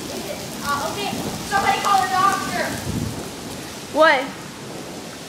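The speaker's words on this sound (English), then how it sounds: "That's some really sick rain." Heavy rain hisses steadily with a low thunder rumble during a Colorado thunderstorm, while people talk and exclaim over it.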